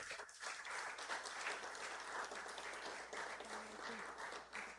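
An audience applauds at a doctorate honoris causa ceremony, a faint, dense, continuous clapping from a crowd that lasts throughout.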